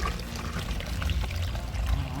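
Water is poured into a hydroponic nutrient mix buffered with Calcinit, a continuous close splashing, gurgling pour with low bubbling throughout.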